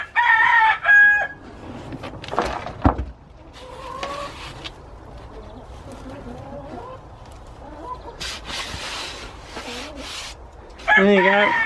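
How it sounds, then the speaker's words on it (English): A cockerel crows loudly at the start and again at the end, with hens clucking and scattered farmyard noises in between. "That cockerel's showing off because he's outside and the others are having to stop him."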